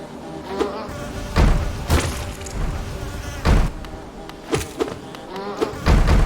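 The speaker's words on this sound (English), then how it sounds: "Hive Guardian. Protects the hive by hurling its huge body at intruders." A large insect enemy, the Hive Guardian in the video game Hollow Knight, buzzes loudly and steadily, broken by heavy thuds and impacts from the game.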